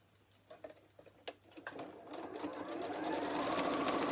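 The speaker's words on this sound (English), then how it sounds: "we're going to sew along that raw edge just there" A sewing machine stitches along a raw fabric edge at a quarter-inch seam allowance on a fat-quarter book cover, starting with a few slow, separate clicks before building into a fast, steady whirring run.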